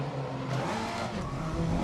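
A touring car engine in GRID 2019, a brief loud, steady racing drone with rising pitch, heard on its own.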